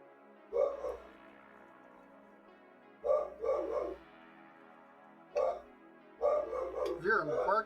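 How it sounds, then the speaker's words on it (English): Dog barking in short bursts indoors, several separate volleys of fairly close barks and yips with quiet gaps between, in a kitchen where a pork roast is being cut. "barking tells me that people are actually here"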